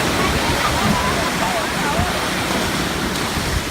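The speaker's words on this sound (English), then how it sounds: "And we're at the beach right now." Ocean surf at Delaware Seashore State Park makes a loud, continuous roar of breaking waves close by, with voices talking over it.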